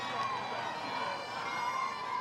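Crowd of flag-waving children cheering outside at the zoo, a steady, distant wash of high excited voices with no single sound standing out.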